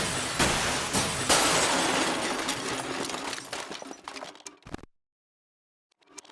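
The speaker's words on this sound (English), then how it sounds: "Like smashing cars." A car smashes in a crash test with a loud shattering burst of glass and crunching metal, followed by a few seconds of debris clatter and tinkling that fade into silence, then faint small sounds.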